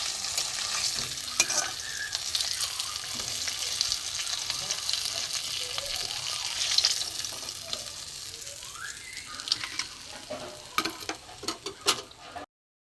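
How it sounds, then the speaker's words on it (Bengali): River fish fries in hot oil in a pan, a steady sizzle with frequent stirring clicks and scrapes, growing more sputtery and spiky toward the end before cutting off. "একটা মাছ ছিল এটা আমি ভেজে নেব"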